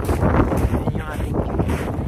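Steady wind buffeting the microphone on a chilly mountain hike on Vancouver Island, a loud continuous low rumble that fills the whole moment with no break.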